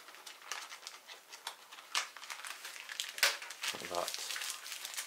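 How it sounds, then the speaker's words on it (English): Large origami paper for a Giganotosaurus model being folded, pushed and flattened by hand, with close crinkling, rustling and crisp patters and a speaking voice faintly in the background. "Just need to push the excess paper"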